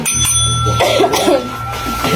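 A bicycle bell rings at the start of a short burst, followed by a steady tone and some clattering, with people talking nearby in Filipino.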